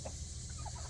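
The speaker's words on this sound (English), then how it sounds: "Someone's crowing for the first time." A young rooster making its first attempts at crowing among a small backyard flock, heard as a few short, faint, rough clucking calls over steady background hiss.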